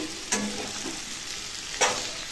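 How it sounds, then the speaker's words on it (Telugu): Ivy gourd (dondakaya) fries in a pan under a constant soft sizzle, and two distinct spatula scrapes from stirring stand out, one near the start and one near the end. "కింద అడుగంటకుండా మంచిగా ఇట్లా కలుపుకోండి"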